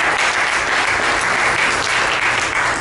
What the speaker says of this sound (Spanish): Dale el aplauso al Señor con todo tu corazón.